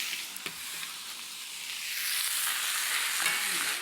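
Shiitake mushrooms and cabbage hit hot oil in a pan, giving a close, loud, continuous sizzle that intensifies partway through, with faint clicks of stirring.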